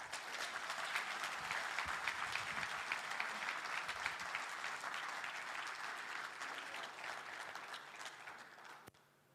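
A church congregation applauds during a sermon, a full, even wash of many hands clapping that stays steady for several seconds before thinning out and stopping, heard somewhat distant and without speech over it.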